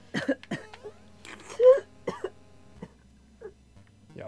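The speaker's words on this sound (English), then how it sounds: "Then I started to cough." Several sharp, dry coughs come in quick bursts, close and fairly loud, then trail off into a few fainter throat sounds against an otherwise quiet background.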